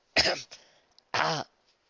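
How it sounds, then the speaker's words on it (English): Two short, harsh coughs close to the mic, separated by a brief pause, with no talking. "Applejack coughed."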